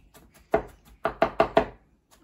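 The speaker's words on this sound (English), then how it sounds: "she's doing some of the chopping of the yellow squash" Knife chopping yellow squash on a cutting board, a few sharp thuds followed by a quick run of four evenly spaced chops, close and clear.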